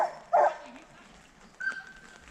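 Sled dogs in Juneau, Alaska give two sharp, fairly close barks with a softer whine between them, against a faint outdoor background and low voices.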